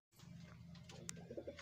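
Pigeons on a rooftop coo softly in a short, faint stretch, with a low murmuring coo and a couple of brief chirps near the end.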